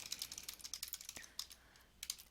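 Typing a message on a computer keyboard: quick, soft, close key clicks in an uneven rapid rhythm, faint and alone with no talk.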